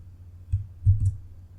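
Computer mouse clicked a few times, short sharp clicks spaced unevenly, close and fairly quiet against a low background hum, no talking.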